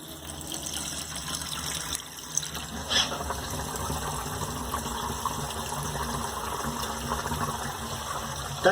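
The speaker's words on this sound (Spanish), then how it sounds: "Así que vamos a abrir el agua." Tap water runs into a newly installed patio floor drain as a steady, even gush with a faint hollow splash, continuing without a break and no voices over it.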